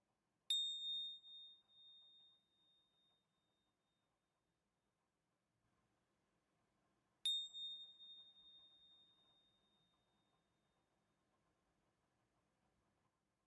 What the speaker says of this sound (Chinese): 直到你听到铃声的响起